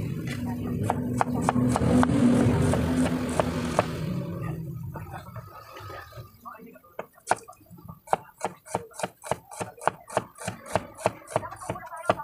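Onions being chopped with a knife for minudo: a quick run of sharp, evenly spaced taps against a board, close and distinct, following a stretch of louder mixed kitchen noise and talk.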